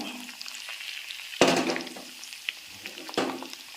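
Garlic dropped into sizzling ginger frying in sesame oil for mango pickle, a soft steady crackle broken by a sharp burst of spatter and a few stirring scrapes, close and fairly quiet.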